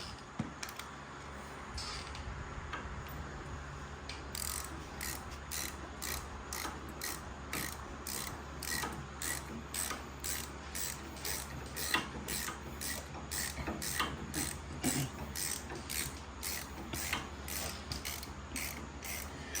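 A ratchet tightens 13 bolts on a Baja Bug back plate, its rapid clicking in quick repeated bursts, close and fairly quiet, steady across the whole stretch with no talking.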